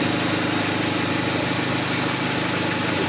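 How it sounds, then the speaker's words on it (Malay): A car engine idles with a steady, even rumble and a faint vibrating hum. It runs close and continuously with no talking. "Oke, sekarang engine dia running guys"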